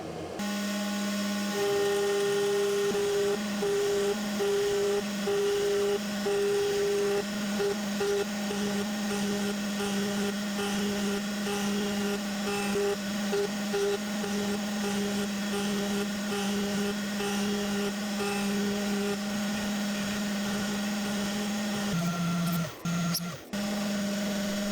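Carvera desktop CNC engraving with a 0.1 mm, 30-degree engraving bit, a steady loud spindle whine with a pulsing machining tone through most of the run, ending with a short clatter.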